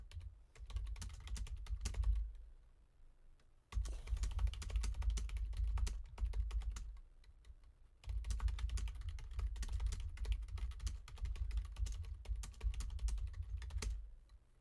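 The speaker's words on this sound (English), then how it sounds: "You can't see me typing." Fast, continuous typing on a computer keyboard, dense clattering keystrokes in long runs broken by a few brief pauses, close and fairly loud, with no speech.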